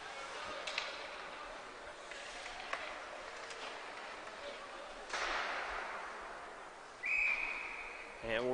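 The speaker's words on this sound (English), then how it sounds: "And we're going to get a whistle." A referee's whistle blows at a live ice hockey game, a sustained shrill tone near the end standing out over crowd and arena noise, with a broadcast commentator talking earlier in the stretch.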